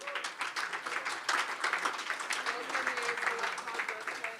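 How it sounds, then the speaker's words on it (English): Applause from the audience at a swimming club's annual awards evening, held at a steady, moderate level for several seconds with mixed voices running underneath. "Give a round of applause"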